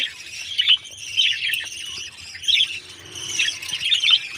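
Yellow pet birds chirp in quick bursts of shrill high tweets, several clusters spread across a few seconds with faint background noise between, fairly close.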